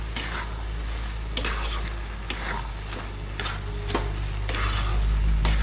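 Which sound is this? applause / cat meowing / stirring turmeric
stirring turmeric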